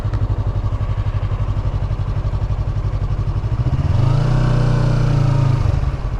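A Yamaha R3 motorcycle fitted with an Akrapovic exhaust idles with a steady, loud, close putter, then its note briefly rises in a short rev before settling back to idle.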